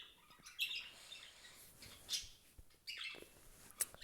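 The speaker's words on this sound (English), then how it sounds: "Birds." Several short, high bird chirps and tweets scattered over a faint outdoor background, coming in quick separate bursts at moderate distance.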